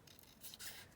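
Scissors cut a piece of card for a handmade greeting card, giving a quiet close snip and rasp in one short stroke, faint and alone.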